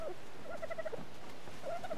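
A newly hatched baby dodo in ARK Survival Evolved lets out soft, warbling chirps in short bursts, faint against quiet game ambience, with no voices.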